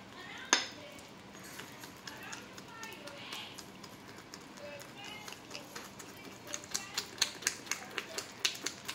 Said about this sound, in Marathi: फेटून घेत आहोत.